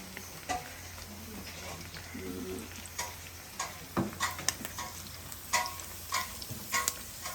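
Beef scraps frying in a pan give a soft, steady sizzle with scattered crackles and pops, close by with some stirring and clinking, no one speaking.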